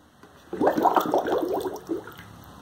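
Bubbles are blown into a container of water, a burst of gurgling, bubbling splashes lasting a couple of seconds, close and moderately loud, tapering off at the end.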